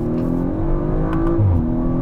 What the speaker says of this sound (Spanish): sé si pueden escuchar los petardeos